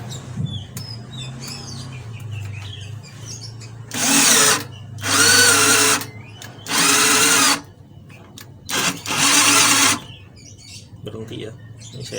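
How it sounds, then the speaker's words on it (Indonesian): An EELIC 12V cordless drill set to speed 2 in drilling mode turns a 10 mm auger bit, giving five loud whirring bursts separated by short pauses. Someone speaks quietly between the runs. "Kita tes bor Elik kecepatan 2, mode drilling, auger bit 10 mili."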